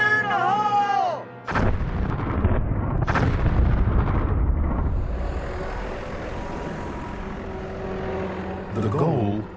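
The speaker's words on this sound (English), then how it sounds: "begin with a set of relatively small charges. Fire in the hole!" Small explosive charges blast rock at an Arctic dinosaur fossil dig. A voice shouts first, then a sudden heavy boom is followed by a second burst and a long rumbling decay, with voices returning near the end.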